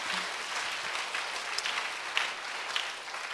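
A church congregation at a Sunday worship service applauds, a continuous wash of clapping hands with a few louder claps standing out, steady from start to finish.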